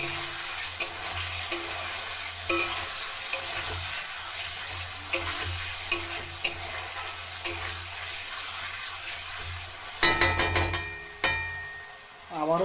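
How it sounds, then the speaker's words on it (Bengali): Rohu fish curry with potato is stirred in a pot, a spoon scraping and knocking against the sides in repeated strokes over a steady low simmer, with a louder burst of scraping near the end. "এখন আমরা ঢাকনাটা খুলে এটাকে সুন্দর করে আবার নেড়ে দেবো যাতে করে নিচে না লেগে যায়"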